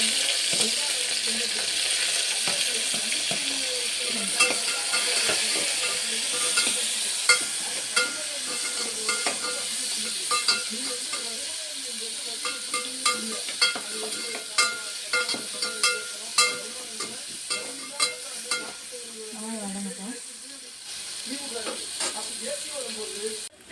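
Onions and green chillies fry in a pan with a steady broadband sizzle throughout, punctuated by sharper clicks and stirring scrapes that grow more frequent toward the end; a faint voice is briefly heard.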